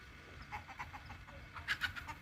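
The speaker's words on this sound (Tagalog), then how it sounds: "Dami po silang manok." Chickens clucking in short bursts at a moderate distance over steady outdoor background noise.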